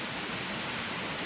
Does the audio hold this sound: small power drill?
no